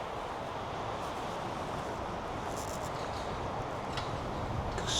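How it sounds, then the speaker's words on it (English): Steady, broadband wind rushes and buffets the microphone at a cemetery, a constant roaring outdoor noise that swells slightly near the end. "Extremely windy today."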